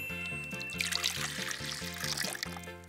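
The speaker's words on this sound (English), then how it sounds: "we need to now pour this in our giant pitcher" Lemon juice trickles and splashes into a giant pitcher, a faint liquid pour heard over a steady, rhythmic background music track.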